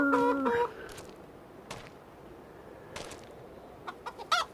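Chickens cluck in the Farming Simulator 25 video game, with a burst of cackling at the start, then sparse clucks and short calls over a quiet farm background and a louder cluck at the end.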